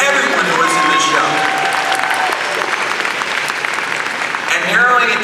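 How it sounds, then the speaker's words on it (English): Audience applauding costume masquerade contestants at a convention show, a broad wash of clapping with light cheering and voices rising at the start and end. "So just a huge round of applause from us, from Costumers Guild, for everyone who was in this show."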